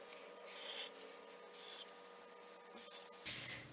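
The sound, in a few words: drawing straight lines freehand on paper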